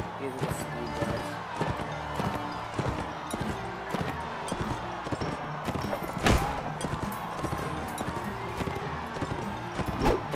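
Hooves clip-clop in a steady rhythm from a horse ridden in the medieval combat game Mount & Blade: Warband, mixed with game sounds, a louder crash near the middle, and voices talking over it.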